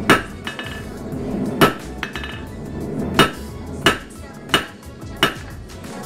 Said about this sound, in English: I'm going to take this half inch square piece of mild steel and forge a guard for our blade